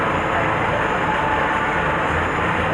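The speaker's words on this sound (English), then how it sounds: "Wait till the train comes to a complete stop." The Pineapple Express tourist train at Dole Plantation, Hawaii, slows to a stop, giving a steady, loud rumble and roll of wheels on track throughout.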